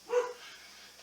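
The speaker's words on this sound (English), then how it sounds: "the dogs are barking" Dogs barking indoors, a single short bark near the start followed by a faint yip at the end, moderately distant and alone.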